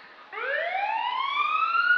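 Rising wail of a new ambulance's siren during a Syttende Mai parade, sweeping steadily upward in pitch and staying loud and close from the first moments to the end, with no voices.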